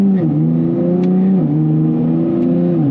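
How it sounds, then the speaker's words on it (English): A 2025 Nissan Z Nismo in Sport Plus mode pulls with a loud, close engine drone from inside the cabin, its pitch stepping down abruptly twice as fast paddle shifts snap through the gears. "I just want you to see how it shifts when you do the paddle shifters in the Sport Plus mode."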